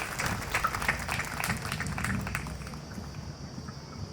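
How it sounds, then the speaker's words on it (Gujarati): Audience applause at a donation announcement, a dense continuous patter of many hands clapping, moderately distant, tapering off toward the end. "જોરદાર તાળીઓ પાડો."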